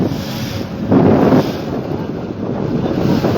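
Choppy waves on a haor wetland lake heard from aboard a trawler, a constant rushing wash heavily buffeted by loud wind on the microphone, with no voices.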